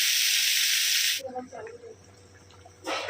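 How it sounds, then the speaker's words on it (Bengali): Green beans frying with onion and chilli in a village kitchen produce a loud, close hiss that cuts off after about a second and bursts back briefly at the end, with quieter kitchen sounds between. "সিমগুলোকে এইভাবে চেষে একটু পেঁয়াজ লঙ্কা ফোড়ন দিয়ে ভাজা করছি"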